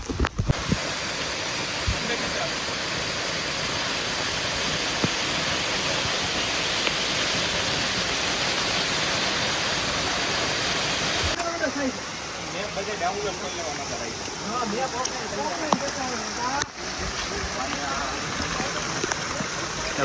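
Water falls at Gaumukh waterfall with a steady, loud rushing roar throughout, and voices come in over the latter half.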